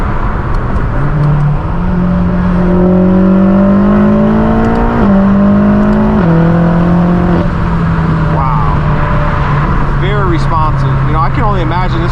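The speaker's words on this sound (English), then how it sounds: "It's got the front mount intake, so you can hear the turbo spooling in the front." BMW M8 Competition twin-turbo V8, tuned, with a front-mount intake, revving loudly from inside the cabin, rising in steps through shifts with a whirring turbo spool on top, with someone talking over it.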